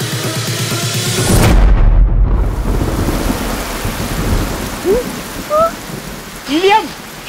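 Heavy rain pours loudly and steadily as a thunder rumble swells early on, while faint voices or cries rise briefly near the end.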